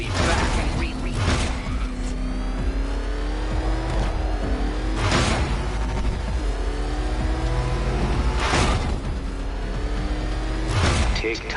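Batmobile in Arkham Knight, its engine revving and roaring loudly and continuously, with repeated bursts of acceleration and mechanical clunks over a deep rumble.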